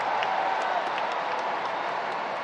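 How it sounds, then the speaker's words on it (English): Spectators at the US Open tennis applaud during a fourth-round match between Coco Gauff and Naomi Osaka, a dense, even roar of clapping that carries on without a break and has no voices on top. "Crowd trying to lift Gauff, but perhaps also saluting Naomi Osaka"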